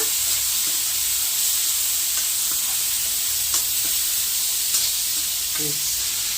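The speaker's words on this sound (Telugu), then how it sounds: "అంతా కలబెట్టేసి పప్పుల పొడి అయితే దంచుకున్నాము సన్న మంట మీద" Spiny gourd fries on a low flame with pounded lentil powder, giving a steady hissing sizzle broken by occasional light scrapes and clicks of stirring.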